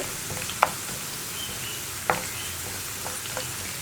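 Grapes, ginger and garlic sauté in oil, a soft, even sizzle with a couple of sharp clicks from a spoon striking the pan.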